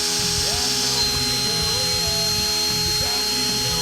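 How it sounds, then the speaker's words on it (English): A drill bit grinds through a steel pin lodged in a bushing bore on a bulldozer, a loud, sustained whine with shifting pitch and motor drone, steady throughout with brief speed changes. "So while we were drilling, the pin started spinning in the bore"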